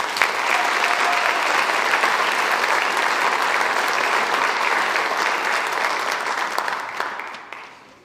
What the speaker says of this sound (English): Please give a round of applause for these four winners of Stellar Student English 12.